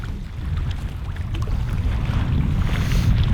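Cold wind blowing in off the water at Victoria, Australia, a steady low rumbling buffet across the microphone with no talk.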